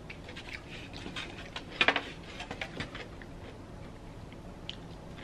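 Someone chews a crunchy pickle doused in hot sauce, with soft close crunches and wet clicks, a few sharper bites standing out against quiet mouth noise.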